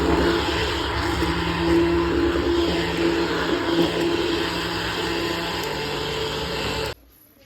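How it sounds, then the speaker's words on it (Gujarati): A kitchen mixer grinder blends yogurt, water and gram flour for Gujarati kadhi, a loud steady motor whine running continuously before cutting off abruptly near the end. "જેને ગ્રાઇન્ડર કરી દઈશું।"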